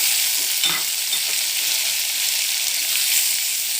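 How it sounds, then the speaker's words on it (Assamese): Cashews, raisins and chopped tomatoes fry together in a pan, giving a loud, steady, close sizzle with faint stirring scrapes and no voices. "আৰু লগতে কাটি থোৱা বিলাহীকেইটা দি দিম, অলপ ফ্ৰাই কৰি দিম একেলগে"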